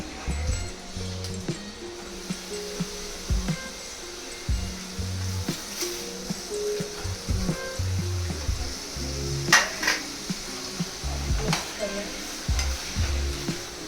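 Prawns go into a pan of Kolambi masala and are stirred, giving a steady close sizzle broken by repeated scraping stirs and clatter throughout.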